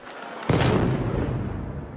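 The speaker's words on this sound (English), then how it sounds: "as gunfire mixed with the sound of explosions" A sudden loud blast from a city drone attack, with gunfire and explosions, bursts out of low rumbling quiet and leaves a long, heavy roar that slowly fades.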